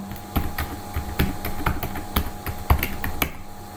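Fingers tap out irregular, crisp keystrokes on a computer keyboard, close and fairly loud, with no voices.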